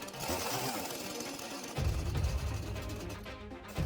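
A cheap secondhand chainsaw engine runs loudly and close after choke adjustment, a harsh buzzing roar that grows heavier partway through.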